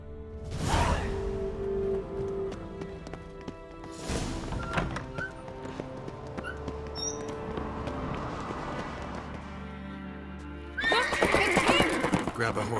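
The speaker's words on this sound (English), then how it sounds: "Grab a horse, we'll chase him down." Horses in The Witcher 3 whinny loudly and thud along amid clattering game sound effects and a bright whoosh near the end.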